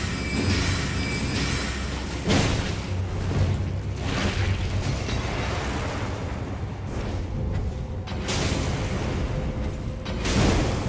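Bombs exploding in Elden Ring co-op play in Caelid: loud, rumbling blasts follow one another over a sustained roar, with several sharper booms standing out as it goes on.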